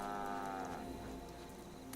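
A cow moos in the video game Fallout 76: a long, steady, harmonic low call over game ambience fades after about a second, with a brief rustle near the end.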